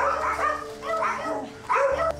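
Dogs kept in a cage sound off close by with several yipping, whining barks in short bursts, heard alone.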